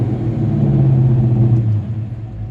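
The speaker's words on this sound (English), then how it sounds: "awesome sound coming out of these new exhaust." A 1954 Chevy 3100 shortbed truck rumbles through its new exhaust, a deep, loud, close engine burble that swells slightly and then eases off.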